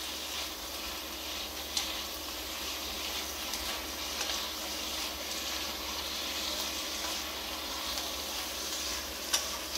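Food stir-fried in a pan at home sizzles with a steady, close hiss throughout, broken by a few sharp clinks of the utensil against the pan.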